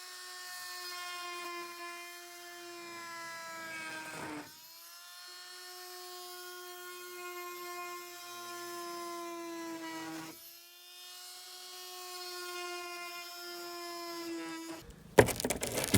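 Power saw with a fine-toothed blade cutting a corrugated PVC roof panel, a steady high whining buzz with strong harmonics, briefly dipping twice, then a short clatter at the end.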